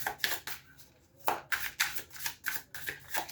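A deck of tarot cards is shuffled by hand in a quiet room, a series of sharp riffling bursts in an uneven rhythm, close and fairly crisp, with brief pauses between them and no talking.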